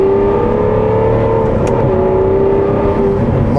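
An Aston Martin Vanquish Carbon Edition V12 engine hums steadily and loudly at a low, smooth drone, with a slight rise in pitch partway through, heard from close inside or beside the car.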